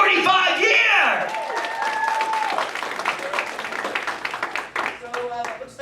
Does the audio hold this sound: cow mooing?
no